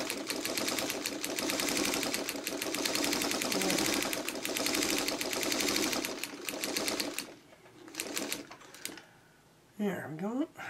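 A sewing machine stitches a fabric coaster in a fast, steady, close rattle for several seconds, then slows into short bursts and stops, while a person talks over it.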